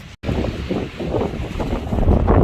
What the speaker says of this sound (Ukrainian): Сьогодні дуже сильний вітер, але снігу немає.